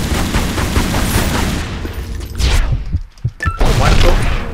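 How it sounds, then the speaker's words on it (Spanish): Rapid bursts of gunfire from Tomb Raider Anniversary in the Tomb of Tihocan, loud and close, followed by a few heavier thumping shots and bangs. "le vamos a darle un balazo al toque"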